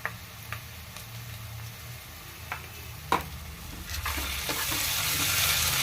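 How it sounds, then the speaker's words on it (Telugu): Ginger garlic paste frying in a pan, a soft continuous sizzle with a few clinks of a spoon against the pan, growing louder and hissier toward the end. "ఇలా వేగుతున్నప్పుడు అల్లం వెల్లుల్లి పేస్ట్ వేసుకున్నాం"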